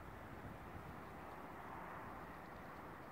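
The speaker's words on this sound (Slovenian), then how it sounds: "Odkar sem slišal tisto veliko letalo pristati" A large airplane landing at Maribor airport is heard as a faint, distant, steady low rumble that fills the whole clip evenly, with no talk.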